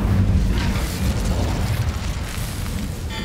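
Fire spell cast in Hogwarts Legacy, a loud rumbling whoosh of flames with a booming burst that sustains for a few seconds amid game sounds, with no voices.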